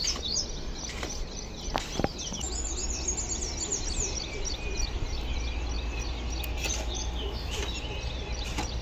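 Various birds chirp and call in a dense, continuous chorus at a rural home where clay is being mixed, with a low steady rumble underneath and a few sharp knocks.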